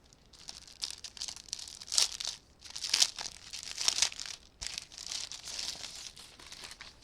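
Crinkly plastic and paper packaging of an Amazon Toheto A4 lightpad being unwrapped, with steady close crumpling and a few sharper tearing rustles over several seconds, no talk.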